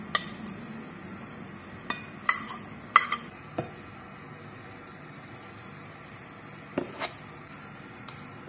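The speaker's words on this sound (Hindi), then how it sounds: "अब ये सारी चीजें मैं एक बाउल में डाल के मिक्स करूंगी" Boiled chickpeas, tomato, onion and potato being stirred together in a bowl for chana chaat, with scattered soft clinks and scrapes of a spoon against the bowl over a quiet hiss.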